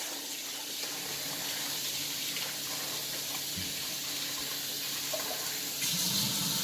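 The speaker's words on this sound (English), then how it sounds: "I wash my rice like 3 times" Rice being washed with water in a basin, a continuous close splashing and running-water wash with a slight swell near the end, no talking.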